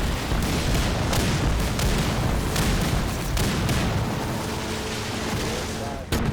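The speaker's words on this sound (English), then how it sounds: "I do not see where they're firing at." Dense, continuous gunfire and booming explosions from the video game Total Conflict: Resistance, loud overlapping shots and blasts filling the whole stretch with a sharp burst near the end, no talking over it.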